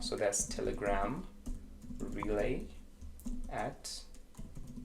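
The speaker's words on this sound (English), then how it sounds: "and then I'm just gonna type in the email." Quick typing on a computer keyboard while an email is written in Gmail, the key clicks fast and close under a voice speaking briefly.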